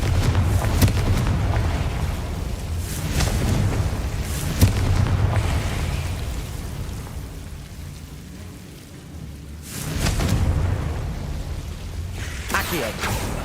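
Confringo blasting spell explosions in Hogwarts Legacy, a series of dull booming blasts rising and fading over a rumbling background, with a few sharper cracks scattered through.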